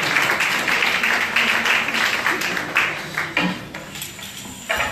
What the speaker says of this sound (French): Alors applaudissez pour encore une fois.